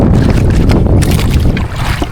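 Wind buffets the microphone aboard a small fishing boat at sea as choppy waves slap against the hull, a loud, steady roar with low rumbling and no speech.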